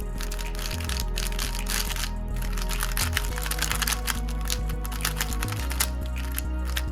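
A freshly cleaned and lubricated Rubik's cube being turned steadily, giving a continuous close-up stream of soft clicking and smooth layer-sliding textures with no talk.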